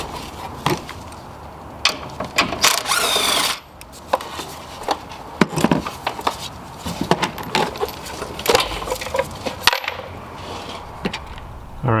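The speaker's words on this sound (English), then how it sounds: "there's one more 10 millimeter to get this air box off" A ratchet works loose 10 mm bolts on the air box of a 2014–2016 Hyundai Elantra, non-turbo, giving scattered metallic clicks, taps and clinks of tools and hardware, close by and irregular.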